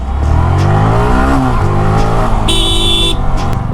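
Road traffic roars close by: engines rev and pass loudly, and a short high whine cuts in near the end.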